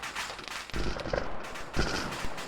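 Several sharp gunshots and blasts crack out in a World War II video game battle, irregularly spaced over a noisy background of distant fire.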